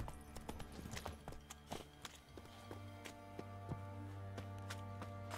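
Roach the horse's hooves clip-clop steadily in a walking rhythm through Witcher 3, close and clear over a low droning game ambience.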